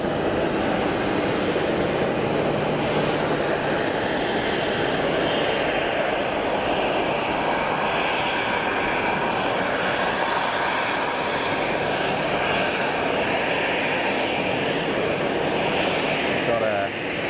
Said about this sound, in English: I see an aircraft on final